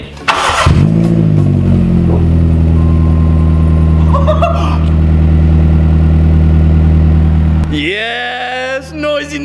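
A Seat Ibiza Sport with a loud, throaty aftermarket universal back box exhaust starts and settles into a deep, rumbling idle, booming close by, with brief voices and a rev near the end.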